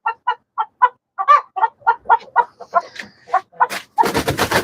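A rooster on a rooftop gives a string of short, rhythmic clucking calls close by, ending in a harsher, noisier burst of squawking.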